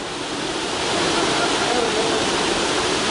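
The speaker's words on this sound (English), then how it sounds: "Traveling along an underground river, cave geologists head toward an unusual discovery." An underground river flows through a cave, a loud, constant rush of moving water that swells slightly after the first second.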